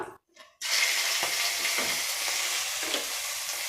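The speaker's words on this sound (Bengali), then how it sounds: "এবার এটা হালকা একটু ভেজে নেবো যতক্ষণ না এর একটা সুন্দর গন্ধ বেরোয়।" Cardamom and cinnamon frying in a pan, a steady hissing sizzle that starts abruptly after a brief quiet moment and continues close and even, with faint stirring taps.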